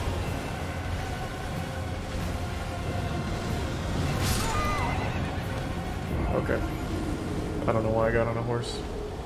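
A horse in the video game Elden Ring gives a couple of whinnying neighs over a constant hum of game sound and faint hoofbeats, the last neigh the loudest and most drawn out.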